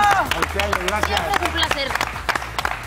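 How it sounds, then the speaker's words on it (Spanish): A television studio audience on an entertainment show claps for a film cast while people on stage speak over the applause. "Un aplauso al elenco."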